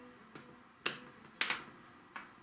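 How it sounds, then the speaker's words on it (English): Several sharp hand claps in a quiet room, four quick crisp bursts spaced irregularly over a couple of seconds, fairly faint, with no voices. "That was my magic clap"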